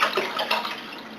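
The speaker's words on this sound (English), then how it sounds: "So we're just going to pour in this whole gallon" A full gallon of water poured into a cooking pot, giving a close splashing gush that eases off into a lighter trickle.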